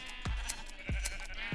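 A Minecraft sheep bleats three times at roughly even intervals, each a short, clear, nearby call, alone over faint background ambience.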